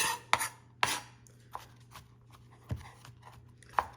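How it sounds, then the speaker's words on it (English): A knife chops ingredients on a board while beef stroganoff is being made, a handful of irregular, close knocks with quiet gaps between them. "we'll just chop this up as best I can"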